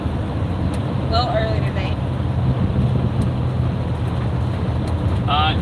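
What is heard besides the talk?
car driving on the road, heard from inside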